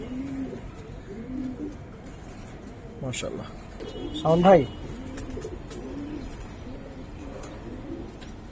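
Giribaz and coloring pigeons coo in a series of soft rolling calls, with one louder burst of cooing rising above the rest, while someone talks throughout.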